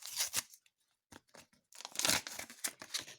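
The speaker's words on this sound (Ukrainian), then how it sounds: "Давайте відкриємо цей пакетик." Several sharp tearing and crinkling bursts as a paper packet is torn open, close up, with a short pause between rips.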